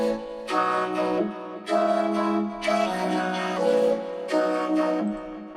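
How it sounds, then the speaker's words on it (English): A vocoder vocal layer from a future trance track plays solo as a series of five rhythmic chord stabs, each rich and buzzy with dense harmonics, separated by short gaps. "And then the third vocal layer is this vocoder actually"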